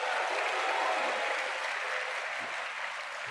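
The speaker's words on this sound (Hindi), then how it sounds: "एक बार संदीप जी के लिए तालियां बजा दो आप।" An audience at a CMA student fest claps for Sandeep, a broad, fairly soft ovation heard from a distance that stays steady from start to finish with no talk over it.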